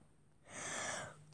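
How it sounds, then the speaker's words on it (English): A single sneeze bursts out loud and close after a quiet breath, a sharp broadband blast of about half a second that trails off. A steady low hum runs beneath it, and it happens during a Minecraft play session. "Sorry, guys, I sneezed."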